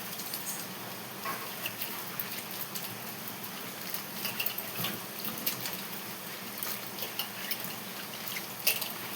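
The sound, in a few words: cauliflower being washed in salted water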